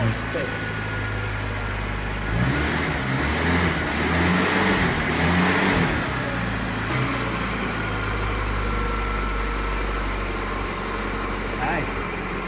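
A 1980 Suzuki LJ80 barn-find engine, started for the first time in 15 years, runs with a steady close idle and rises in a couple of revs near the start before settling back. People talk over it.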